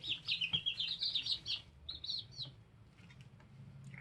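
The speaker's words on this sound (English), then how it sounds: "There's our baby chicks, almost 3 weeks old." Almost three-week-old chicks cheep in quick, high-pitched bursts, a run of peeps then a few more, fairly soft over a low background hum.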